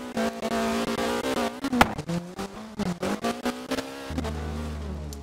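Ford Escort MK2 RS drifting in the video game Forza Horizon 3, with a loud engine revving and pulsing in quick bursts of throttle and rising and falling pitch, close and continuous, ending on a lower steady drone.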